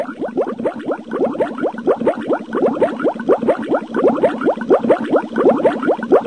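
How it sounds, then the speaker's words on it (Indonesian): Water heated to a boil bubbles steadily, a rapid, continuous stream of close popping and gurgling bursts at even loudness throughout. "Saat kamu memanaskan air hingga mendidih"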